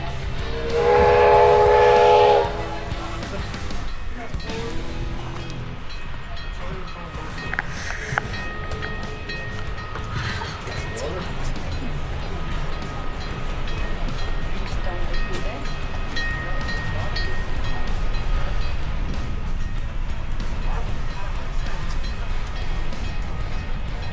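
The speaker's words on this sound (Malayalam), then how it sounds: "ട്രെയിനിൻ്റെ സൗണ്ട് കേൾക്കുന്നുണ്ട് കേട്ടാ" A coal-fired steam locomotive pulls into a station at a heritage park in Calgary, with a loud whistle blast at the start, then a steady rumbling, hissing rail roar that carries on throughout.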